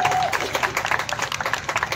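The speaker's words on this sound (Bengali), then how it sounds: "তার জন্য জোরে হাততালি" Applause from a seated audience at an Anupam Roy birthday celebration, honouring filmmaker Srijit Mukherji: dense, steady clapping that fills the whole moment with irregular swells.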